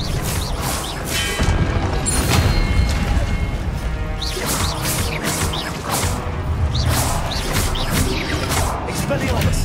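Disarming spell effects from the wizarding game Hogwarts Legacy, a busy run of whooshing casts, sharp magical cracks and impacts in combat, repeating over and over under game music and a voice speaking.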